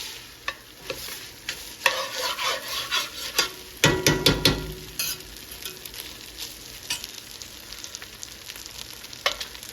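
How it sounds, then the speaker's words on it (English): Rice fries in oil with onions and garlic over high heat for Kashmiri mutton yakhni pulao, loud sizzling with a spatula scraping and stirring in bursts, including a sharp clatter near the middle. "crank up your stove heat to high and just fry it off a little bit"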